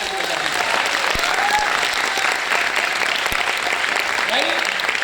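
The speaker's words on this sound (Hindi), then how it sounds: "अब जोरदार तालियां दोनों हाथ ऊपर" Loud audience applause at a company rank achiever gathering, dense steady clapping filling the room with a few whistles and cheers riding over it.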